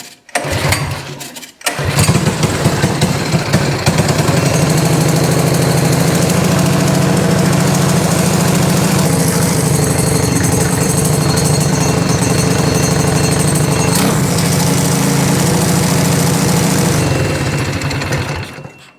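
A go-kart's small engine on old 2-cycle fuel cranks briefly, then fires and runs with a loud, steady, buzzing rattle close by for over fifteen seconds before winding down.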